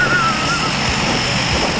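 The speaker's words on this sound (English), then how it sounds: "the plane's waiting for us" A propeller airplane engine, the jump plane waiting for an Army Golden Knights parachuting session, drones loudly and steadily close by with an even, continuous roar.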